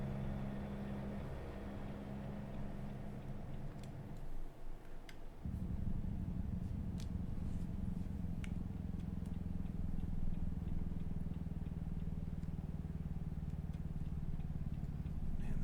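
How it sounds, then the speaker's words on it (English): A truck engine with its engine or exhaust brake engaged, driving from Spokane to Medford in American Truck Simulator: a steady low rumbling drone that dips briefly partway through, then resumes at a fuller, even level. "I don't know if this is an engine brake or an exhaust brake, but it does not slow you down a lot."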